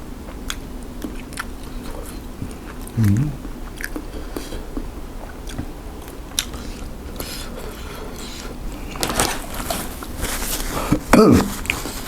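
Crunchy bites and chewing on Vietnamese pork sausage eaten alongside spicy crab and bamboo shoot papaya salad, soft close mouth sounds with a couple of sharper crunches.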